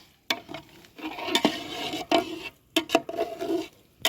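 Potato curry being stirred in a pan at a farm cookout at night: irregular scraping and clinking strokes of a utensil against the pan, close and moderately loud, with soft sizzling between strokes and no talk.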